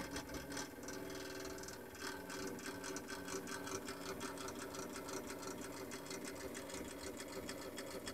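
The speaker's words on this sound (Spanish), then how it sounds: "Su ventilador está algo ruidoso." A noisy cooling fan in a Peavey CS800X power amplifier whirs steadily, with a fast rattling tick running through the drone the whole time, close and fairly loud.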